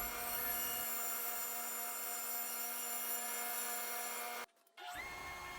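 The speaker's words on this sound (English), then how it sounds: "I set my saw at a 30-degree angle before making the cut" A power saw cutting through a wood board at a 30-degree angle, a loud continuous whine with harmonic hum that holds steady, then cuts off abruptly before a brief restart near the end.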